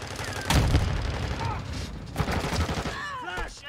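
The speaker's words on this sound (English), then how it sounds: "Stun grenade." Stun grenade blast and bursts of gunfire in Call of Duty Modern Warfare 2, a loud boom followed by rapid shots, with voices and game effects mixed underneath.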